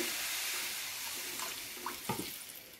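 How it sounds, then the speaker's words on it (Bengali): Water pours into a cooking pan of spiced egg curry, a soft steady rushing stream that trails off into a few splashes and gurgles near the end. "এবারে আমি দিয়ে দিচ্ছি জল পরিমাণ মতো।"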